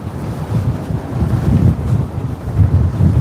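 Strong wind buffeting the microphone at a harbour on a blustery Christmas Eve in Berwick, a loud, gusting low rumble rising and falling with no speech.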